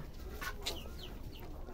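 Farmyard hens cluck softly a few times at a distance. Their short, faint calls come over a quiet background.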